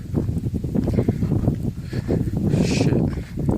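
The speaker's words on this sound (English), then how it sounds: "Sorry if the wind is a bit loud." Steady wind buffeting an outdoor microphone, a loud continuous low rumble with gusty swells throughout and no voices.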